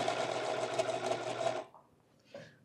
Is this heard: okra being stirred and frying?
no